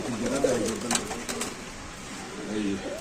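Giribaz pigeons coo softly at a market stall in Rajshahi, a few low, throaty warbles close by, with faint talk in the background.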